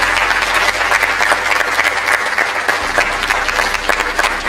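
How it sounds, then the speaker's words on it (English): Audience applauds education scholars at a university end-of-year celebration, steady and even clapping from a sizable crowd with a low hum underneath. "these scholars, a round of applause."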